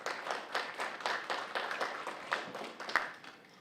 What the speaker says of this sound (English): let's give our guests a big round of applause